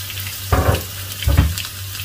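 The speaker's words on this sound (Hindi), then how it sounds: "एक वॉक के अंदर मैंने तकरीबन एक कप घी गर्म कर लिया है, तो अभी इसमें मैं शामिल करूँगा 2 अदद दरमियाने चॉप्ड प्याज" Chopped onions drop into about a cup of hot ghee in a wok, giving two short, loud bursts of hissing sizzle over a steady kitchen background hum.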